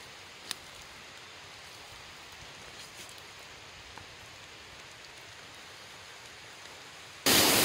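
Rain falls in the mountains as a steady soft hiss with a few faint drips and taps. A loud burst of noise cuts in at the very end.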